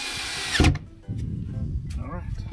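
A handheld power drill drives the last couple of screws while fitting out a hunting blind, a short high whine followed by a lower grinding run under quiet surroundings.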